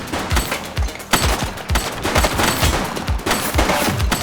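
Gunfire in the police game The Precinct: rapid, loud shots crack out in a dense, irregular burst, close by and sustained, with no talking.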